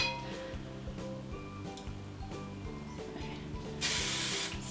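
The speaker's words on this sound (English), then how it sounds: "Spray," Hair spray hisses in one short, bright burst near the end while a curling iron's mechanical clicking and ratcheting repeats steadily underneath during a beach-waves hairstyling session.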